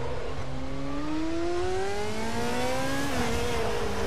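Race car engine in Raceroom Racing Experience at Moscow Raceway, a steady loud high-pitched drone climbing through the revs, with another car's engine layered in, continuous and close.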